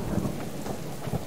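Thunderstorm in the survival video game Subsistence: steady rain patter with low rolling thunder rumbles, continuous and without any talk.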